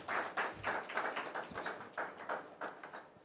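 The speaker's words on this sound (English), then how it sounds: "Let's welcome him with a round of applause" Scattered, fairly faint clapping from a conference audience welcoming a keynote speaker at an energy sector event; individual claps come in loose, uneven bursts rather than a full roar.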